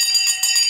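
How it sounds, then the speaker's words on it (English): A stock market opening bell rings in a steady, bright metallic trill with quick repeated strikes, loud and alone with no talk. "We're about to ring the bell"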